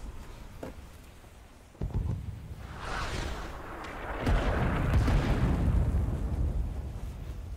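Artillery fire in the video game Rising Storm 2: Vietnam, a sharp crack followed by heavy booming explosions that swell into a long, rumbling roar.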